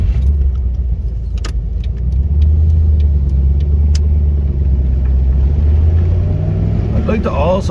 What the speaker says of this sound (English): let's crack on for a bit of a shaky test drive